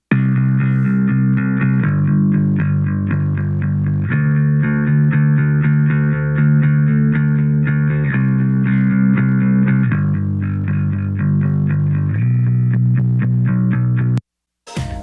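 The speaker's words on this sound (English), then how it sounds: "Bass sounds like this." A deep, sustained bass guitar line, processed with Waves R bass, plays loudly in a full mix, notes shifting every couple of seconds, before cutting off abruptly near the end.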